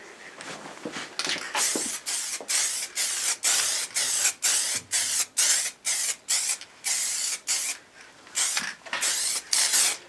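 Rhythmic hissing bursts of Frost liquid wrap being sprayed onto a Triumph Tiger motorcycle in a garage, close and loud, each short pass separated by brief pauses at a steady pace.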